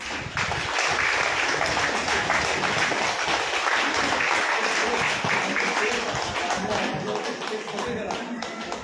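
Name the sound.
audience clapping loudly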